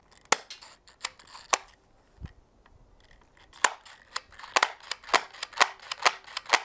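A Nerf GelFire gel blaster clicks and snaps in a series of sharp, close, light mechanical pops, sparse at first and then quicker and more irregular as it misfires repeatedly.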